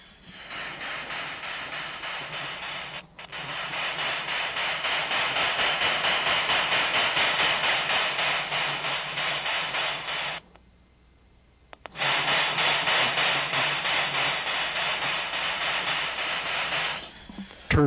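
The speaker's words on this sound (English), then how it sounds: "I've got the full 10 ohms of resistance added so that the train is slowed down quite a bit" An LGB garden-scale model train locomotive running slowly on track under rheostat control, a steady rhythmic whirring hum with regular clicks, pausing briefly near the middle and again near the end.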